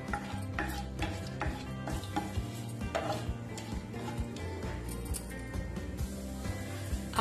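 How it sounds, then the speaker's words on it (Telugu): Chana dal, urad dal and tempering seeds fry in hot oil in a kadai. A light crackle sounds under repeated scraping and clinking of a spoon against the pan. "ఆయిల్ వేడెక్కిన తర్వాత తాలింపు గింజలు వేసుకోండి. పచ్చిశనగపప్పు, మినపప్పు కొద్దిగా వేగనివ్వండి."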